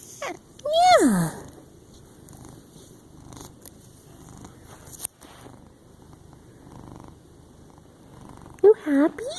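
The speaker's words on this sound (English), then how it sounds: "you purring?" A cat purrs softly and steadily close by, a low continuous rumble, while a person speaks to it at the start and again near the end.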